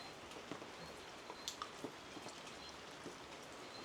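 Light rain falling outdoors, a faint steady patter with occasional sharper drips standing out against a soft continuous hiss.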